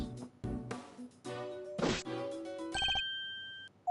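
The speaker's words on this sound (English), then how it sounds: "The moment the phone rang, I knew it was serious." Telephone bell ringing in the Ace Attorney Investigations 2 video game, several loud electronic rings in bursts with percussive hits between them, ending in a sustained tone.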